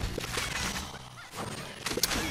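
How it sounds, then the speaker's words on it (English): Chickens cluck in Plants vs. Zombies 2 during a Lunar Zoo Year event level: short squawky bursts mixed with busy game noise, fairly loud and close. "Chickens are here."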